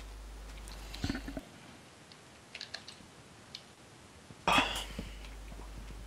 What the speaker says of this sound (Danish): Jeg skulle lige nys.